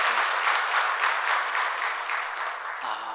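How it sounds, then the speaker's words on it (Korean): A church congregation claps in thanks and encouragement for a departing minister at a Sunday service, a steady dense wash of applause that fades slightly toward the end, where a faint voice or tone enters. "감사와 격려의 박수 드리도록 하겠습니다"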